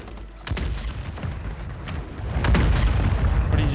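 Heavy booming explosions from mortar strikes in the Warzone 3 (Modern Warfare III) video game, a dense rumbling barrage with blasts around the start and a louder sustained roar in the second half, no talking.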